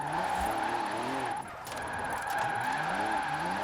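A car in Forza Horizon 4 sliding sideways, its engine wailing in rising and falling revs with a brief dip midway before the drift resumes, loud and continuous with a faint high whine above.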